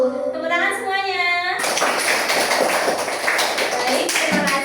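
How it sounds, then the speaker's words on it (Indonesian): A class of young children in an Indonesian primary school claps hands together, a dense burst of clapping that follows a teacher's call and continues loudly to the end. "Tepuk tangan semuanya."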